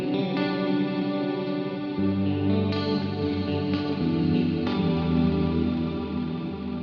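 A guitar through a multi-delay block on a Fractal FM3 rings out in a long, smeared wash of repeating echoes, layered chords and notes blending into a sustained trail that hangs on steadily.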